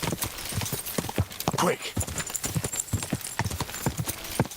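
Horse hooves clip-clop in a steady walking rhythm in the video game Kingdom Come: Deliverance 2, close and clear, while people talk over the footfalls.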